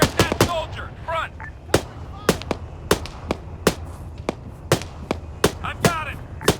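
Sharp individual rifle shots crack out at uneven intervals in an Operation Flashpoint Cold War battle, some loud and close, with soldiers' radio-style voices calling out between them.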